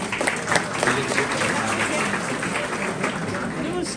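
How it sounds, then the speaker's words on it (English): Audience applause at a 70th birthday celebration, dense steady clapping from a crowd filling the room for several seconds. "One round of applause, everyone."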